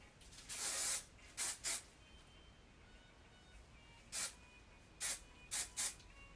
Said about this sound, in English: So you just hairspray.